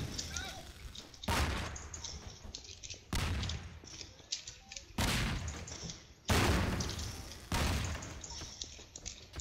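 Bombs exploding in the Melon Bomber video game, five loud booming blasts spaced a couple of seconds apart, each with a lingering rumble, over faint game sounds.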